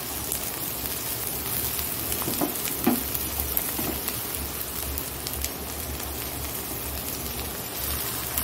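Sliced potatoes, cut as for fries, frying in a pan for egg chow mein, a steady, dense, close sizzle with a few soft stirring knocks in the middle and no talk.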